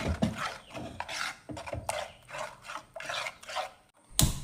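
Ground fish curry paste being mixed in a clay pot for mango fish curry, repeated rhythmic rasping scrapes of a spoon against the pot's rough surface, close and steady, about eight strokes with a brief pause near the end.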